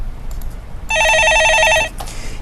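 A telephone rings once with a bright warbling electronic trill lasting about a second, loud and close over faint background noise on a stock market call-in broadcast.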